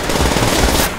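Rapid enemy machine-gun fire from a World War II shooter game, a loud continuous burst of close shots with no talk over it.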